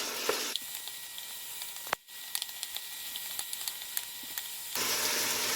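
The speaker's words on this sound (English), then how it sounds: "And now we're going to mix it with the ginger garlic." Ginger garlic paste sizzles and hisses steadily in a hot pan as it is stirred and mixed, with a brief break in the frying hiss and small scraping clicks throughout, no talking.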